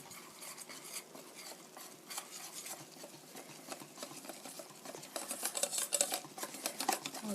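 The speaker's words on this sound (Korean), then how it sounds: "이렇게 잘 저으셔서 이게 크레이프 반죽이에요" Steady stirring of crepe batter made with cold water, a fast scraping rhythm of utensil against bowl, close and fairly quiet, growing a little busier toward the end with no voices.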